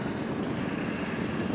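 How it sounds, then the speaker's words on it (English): A Lockheed Hudson camouflaged warbird bomber taxiing at an air show, its propeller engines giving a loud, steady droning rumble that fills the whole stretch without a break. "now has the Lockheed Hudson taxi again"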